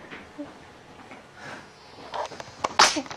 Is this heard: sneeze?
yes